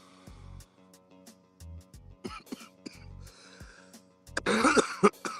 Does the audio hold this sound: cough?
yes